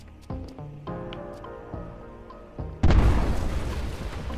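A bomb goes off in the video game Eastward, a sudden loud boom with a crackling burst that decays over a second or so, following a run of melodic game music tones and small blips.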